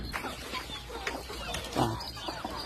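Chickens clucking among ducks at a rural Thai farmyard, several birds making short overlapping clucks and squawks close by with a brief louder call, no voices.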